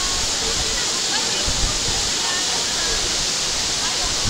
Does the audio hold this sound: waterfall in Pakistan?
yes